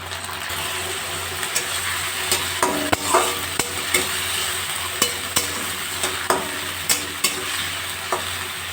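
Carrots, beans and capsicum frying in a pan with cashews, raisins and a tomato, green chili and ginger paste, for a vegetable dal: a dense close sizzle with regular spatula taps and scrapes about every half second.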